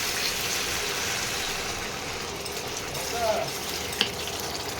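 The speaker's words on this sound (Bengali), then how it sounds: "এবারে সামান্য একটু জল দেবো" Water poured into spice masala frying in oil in a home kitchen, a steady soft sizzle and hiss with a faint bubbling and a brief clink near the end, quiet and close.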